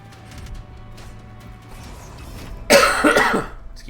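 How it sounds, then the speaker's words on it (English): A person coughing, a sudden loud burst of several rough coughs near the end after a quiet stretch with a faint hum. "One of these days I'll be done coughing."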